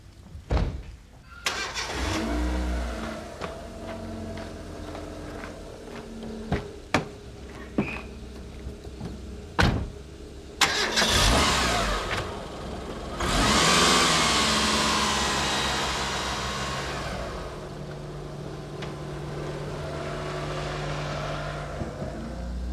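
A car engine idles and revs while the vehicle is backed up, with clunks and door-like knocks early on, then a sustained louder engine surge mid-clip easing back to a steady hum.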